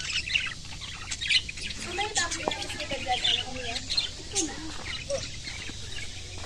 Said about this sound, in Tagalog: Meron silang lovebirds.